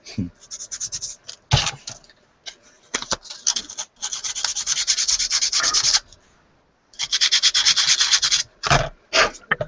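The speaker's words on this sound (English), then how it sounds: "I think I'm going to probably sand that down, replace it." Sanding a plastic model part by hand with sandpaper: bursts of close, steady rasping strokes, some several seconds long and some short, broken by brief pauses and an almost silent gap.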